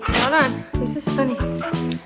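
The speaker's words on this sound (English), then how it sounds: "get your sock almost pulled off by a little puppy" A small puppy yips and barks in quick bursts close by, with excited, whimpering tones, while a person laughs and talks alongside.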